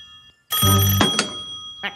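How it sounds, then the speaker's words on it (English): A telephone rings in the Pocoyo cartoon, one loud bright burst of bell tone followed by a couple of short fading chimes, alone with no talk. "The phone!"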